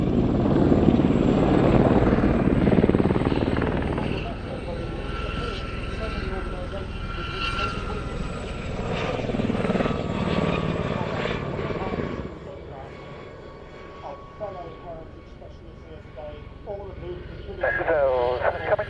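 Gazelle helicopter in a navy airshow display at Shuttleworth, its rotor and engine thrumming steadily at a distance under continuous radio-style commentary from a voice.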